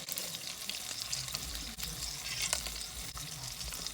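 Small cuts of spice-coated fish sear in a hot pan, giving a continuous fizzing sizzle with brief crackles and a soft scrape or two, no talking.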